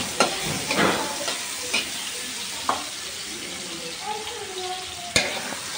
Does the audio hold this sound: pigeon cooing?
no